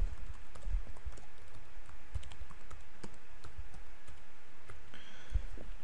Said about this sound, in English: what you're going to do is type a registration code, something memorable